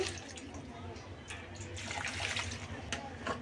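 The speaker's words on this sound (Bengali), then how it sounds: "যে পাতিলে আমি নেহারিটা রান্না করব সেখানে একটু পানি দিয়ে দিচ্ছি" Water pours into a cooking pot used for beef nihari, a splashing, gurgling flow that swells toward the end, close and fairly loud.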